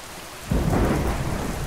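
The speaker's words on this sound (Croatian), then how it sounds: "Nakon kiše uslijedila je i grmljavina." Rain and thunder in the video game Minecraft: steady rainfall hiss, then a deep rolling thunder rumble breaks in and carries on, loud and close, with no talking.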